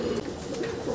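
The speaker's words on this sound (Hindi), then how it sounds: "जो कि दोस्तों हमारे लाल कबूतर का जोड़ा है" A pair of red pigeons coos in a short, continuous low throaty burble, close and steady, with no talking.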